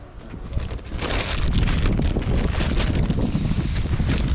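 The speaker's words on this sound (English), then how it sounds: "Whew, that wind." Strong gusty wind blowing across an outdoor backyard, roaring steadily and buffeting the microphone throughout with a broad rushing noise, loud and close.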